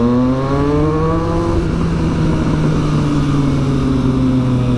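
Triumph Street Triple 675 engine running loud and close at low idle, its pitch dipping and then rising back up in a revving sweep, with no talking.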